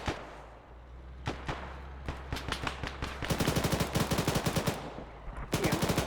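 Sustained machine gun fire in bursts from a gunship during a combat mission, starting as scattered shots and building into rapid, dense rattling volleys that run continuously toward the end, loud and close with no talk.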